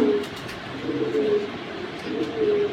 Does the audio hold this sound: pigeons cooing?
yes